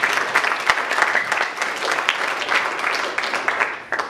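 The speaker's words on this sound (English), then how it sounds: "Give the Lord a big clap of praise." A church congregation claps in praise during a sermon, a dense, steady burst of applause filling the room for about four seconds with no voice over it.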